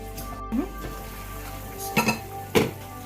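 Curry chicken wings simmer in a pot while a spoon stirs them, a soft background sizzle broken by a few short scraping clinks against the pot.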